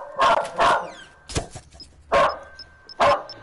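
A dog barks in short, sharp bursts, about four loud barks spaced irregularly, with a high electronic beep repeating in the quiet gaps.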